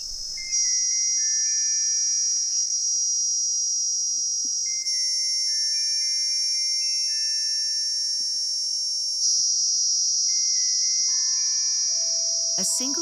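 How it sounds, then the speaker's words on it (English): A steady, piercing high-pitched cicada drone in the Kalahari holds throughout, with faint tonal chirps beneath it and a brief clatter near the end. "A single cicada's call can be heard from as far as 1 mile away."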